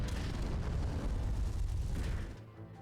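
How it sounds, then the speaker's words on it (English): A Plasma Laser Cannon attack explodes in the Yu-Gi-Oh! The Falsebound Kingdom video game, giving a loud, sustained booming blast with heavy low rumble that fades abruptly near the end. "Alright, Plasma Laser Cannon."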